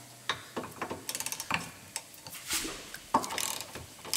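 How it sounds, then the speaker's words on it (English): A ratchet wrench works on the 15mm rear subframe bolts of a Ford Mondeo Mk4, giving quick bursts of close, dry clicking in short runs with small pauses and clanks between strokes. "I'm going to take both of these rear subframe 15mm bolts out."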